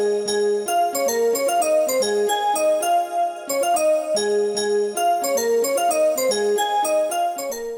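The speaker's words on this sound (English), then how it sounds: "One of the most interesting parts of this production is the lead synth sound" A lead synth built from layered bell and pluck patches plays a busy, repeating melody in a pop production, with bright chiming attacks over plucky notes, loud and continuous throughout.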